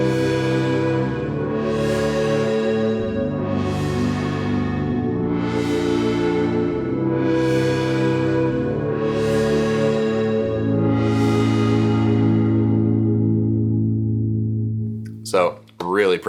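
A Pro Tools PlayCell synth pad with a filter envelope, echo and depth, sounding as a series of swelling sustained chords that each bloom bright and fade, ending in a brief cut-off and a few clicks.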